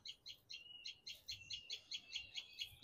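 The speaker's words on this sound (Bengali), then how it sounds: "ওটা যে কোন পাখিটা ডাকে, ওই পাখিটা আমি বুঝতেছি না।" A bird heard from a rooftop gives a fast, regular run of high chirps, about a dozen evenly spaced notes with one longer whistled tone. The calls are faint and distant over quiet background.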